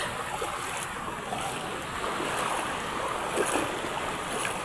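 Sea surf at a rising high tide rushes continuously, a broad steady wash of breaking waves mixed with wind buffeting the microphone, no voices.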